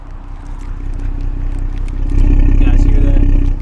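Engine and exhaust drone from a catless BMW X5 driving on county roads, a steady low rumble that swells louder in the second half as the engine pulls harder.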